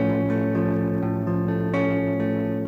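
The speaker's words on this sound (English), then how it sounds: "Then you would switch to the augmented chord." An E-shape augmented chord strummed on guitar follows a sustained chord, ringing clear and close for a few seconds with no voices.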